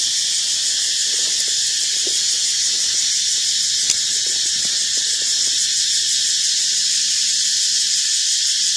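Dense, continuous high-pitched buzzing of cicadas fills the air, loud and unbroken throughout, with faint low background sounds underneath.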